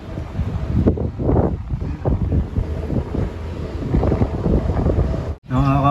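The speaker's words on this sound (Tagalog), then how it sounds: "medyo malakas yung hangin" Strong wind buffets the microphone in dark, stormy weather over Binangonan and Antipolo, a loud continuous rumble with gusts swelling and easing and a brief drop near the end, with no clear voice over it.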